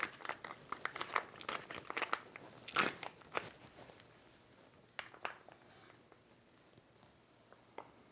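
Crinkling and tearing of a Lithuanian Army single-meal ration pouch, Menu #7, with sharp crackles and rips clustered early, then sparser faint crinkles, close up and alone.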